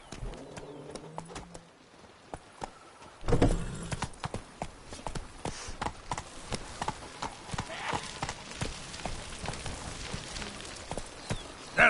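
Geralt's horse Roach trotting in The Witcher 3, steady rhythmic hoof clip-clops at a moderate pace, fairly quiet, with ambient game sounds in the background.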